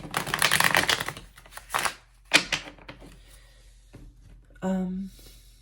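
Tarot cards are shuffled in quick riffling bursts, close and crisp, broken by pauses, with a voice speaking briefly near the end.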